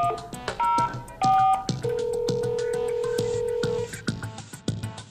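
Several short DTMF keypad tones beep in quick succession from a lineman's butt set, then one long steady tone holds, with clicking and tapping throughout.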